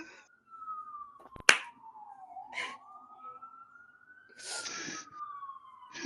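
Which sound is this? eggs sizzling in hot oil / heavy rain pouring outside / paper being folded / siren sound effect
siren sound effect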